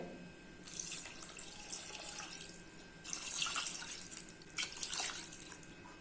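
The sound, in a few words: water being poured into the goat head curry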